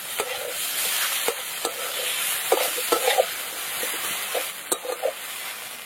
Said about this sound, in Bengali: আদা রসুন পেঁয়াজ ভালো করে একদম ভেজে নিয়েছি। ছাড়ানো মাছ দিয়ে দিলাম।